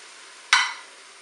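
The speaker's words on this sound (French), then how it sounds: "Je vais ajouter maintenant le vin blanc." White wine poured into a hot Cookeo multicooker pot with softened ingredients gives one sudden, loud sizzling hiss that fades over a fraction of a second against a quiet background.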